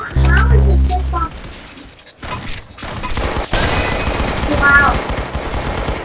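Rapid automatic gunfire bursts in the Roblox shooter game Arsenal during a tournament match, loud and close, mixed with game effects and an excited voice talking over it.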